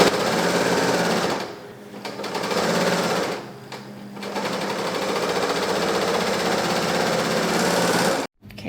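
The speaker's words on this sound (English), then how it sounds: "I'm not pulling through when I'm serging" A serger stitches steadily along a dress seam, its fast motor buzz running loud and close in long bursts with two brief pauses and a sudden stop near the end.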